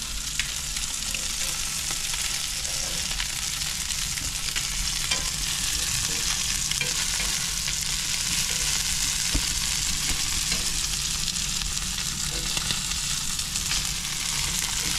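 Fish pieces frying in oil in a pan make a steady, dense sizzle that runs unbroken from start to finish, with small crackles and pops near at hand and no voices.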